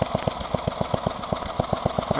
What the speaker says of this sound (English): you can hear it ticking over nicely